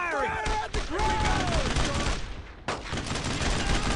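Dense gunfire rattles without a break in the World War II shooter Brothers In Arms: Road To Hill 30, loud and close, with rapid overlapping shots and a brief dip midway. Shouted voices cut through the barrage.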